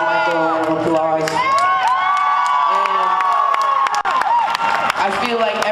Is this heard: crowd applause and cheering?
yes